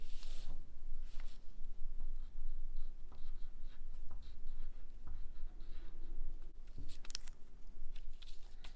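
A pen writes on paper while working through a children's math contest problem, close and quiet, with scratchy strokes and short pauses between marks, no voices.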